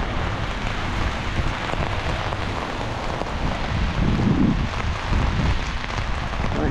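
Rain pattering steadily on an umbrella during a walk in wet, windy weather, a dense close hiss of drops with wind underneath and no speech.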